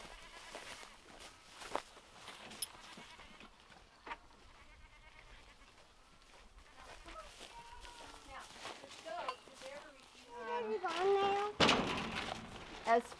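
Dairy goats being led out toward a trailer give a few bleats, faint at first and louder near the end, mixed with footsteps and a person talking.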